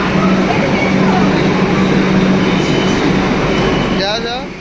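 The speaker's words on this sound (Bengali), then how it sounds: "আমি নেক্সট ট্রেনে আসবো।" Metro train in Kolkata running loud and steady on the rails, with a continuous rumble and rolling wheel noise throughout, fading slightly near the end as squealing tones appear.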